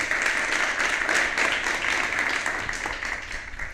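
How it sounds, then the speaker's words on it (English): Audience applause at a climate tech demo day in Oslo, a dense, steady wash of clapping from a sizable crowd that holds evenly for several seconds before thinning slightly toward the end. "Let's give a warm applause."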